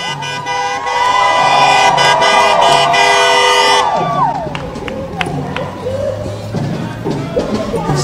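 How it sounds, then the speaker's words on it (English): A car horn honks in solidarity with a Milwaukee street protest during the last night of the Democratic National Convention, sounding repeated tones over a loud crowd, traffic and voices; the horn fades after a few seconds as the street noise continues. "So there's somebody honking with solidarity in their car."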